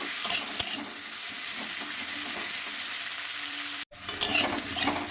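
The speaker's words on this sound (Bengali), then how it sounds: "দিয়ে নাড়াটা করে নিলাম" Salted onions fry in a pan with a steady bright sizzle, while a spatula scrapes and taps as they are stirred. A brief cut to silence is followed by louder sizzling and stirring.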